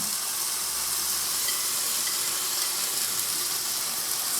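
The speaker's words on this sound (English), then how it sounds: "salmon's in the pan, broccolini's in the pan, starting to char" Salmon and broccolini charring together in a hot pan, a steady close sizzle with fine, even crackling and no pauses.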